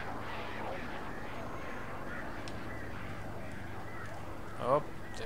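Crows caw in the Alan Wake video game, a few calls standing out over a steady game ambience while a person talks.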